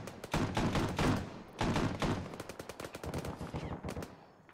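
Bursts of loud machine gun fire in Arma 3 during a jungle island amphibious assault, several long rattling volleys close together that fade into sparser shots.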